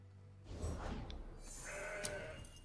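A single goat bleat from the Mountain Goat card in Legends of Runeterra, a short wavering cry over light game ambience, clear but moderate in level, with no talking.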